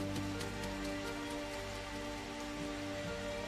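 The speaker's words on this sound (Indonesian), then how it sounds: "Saat ini kan hujan turun sangat deras." Heavy rain falls steadily and densely throughout, a constant loud hiss with spattering drops and a few faint steady tones beneath.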